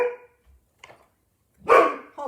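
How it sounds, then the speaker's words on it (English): A pet dog barks indoors at home: a few faint yips early on, then a loud, close bark burst near the end, with quiet pauses between. "I don't know what she's barking at."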